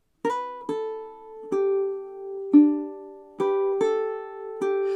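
Fingerstyle ukulele picks a passage of a song, with clear plucked notes and ringing chords entering in a steady rhythm, close and alone with no voice.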